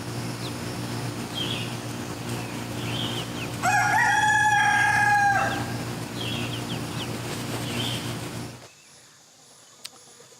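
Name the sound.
Buff Orpington rooster crowing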